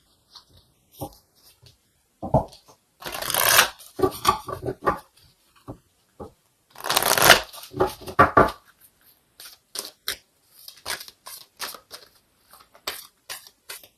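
Oracle cards being shuffled in bursts, with two longer riffling flurries and scattered snaps and taps of cards between them, fairly close and with no talk.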